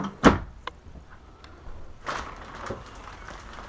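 A sharp sliding thud of a large drawer in a travel trailer, then after a pause a longer rolling slide and soft knock as it moves again, close by and fairly quiet.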